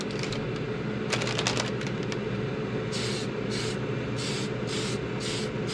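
Aerosol spray paint hisses in repeated short bursts onto a Tamiya Super Avante RC car body being painted green, each spurt close and loud with brief gaps between, after some light clicking and handling noises.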